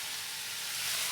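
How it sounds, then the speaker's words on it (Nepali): Vegetables cook in a pan with a soft, steady hiss and sizzle over a brief moment, no speech. "अब सब्जी पाक्दैछ"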